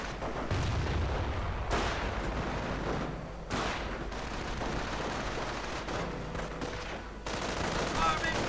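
Flak gun bursts and rifle fire in a real-time strategy war game, loud overlapping booms and crackling shots that run steadily throughout, with a voice talking under the battle noise.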